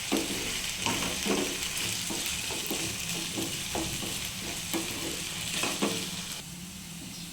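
Two potatoes fry in a pan for a capsicum and potato palya, giving a soft, steady sizzle with repeated scraping strokes of a stirring spoon at a fairly quiet level.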